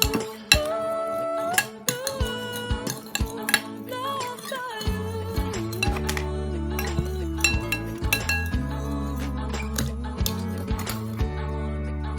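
A mixture being stirred in a container: bright clinking and tapping of a utensil against the vessel, close by, over a steady humming drone that begins partway through.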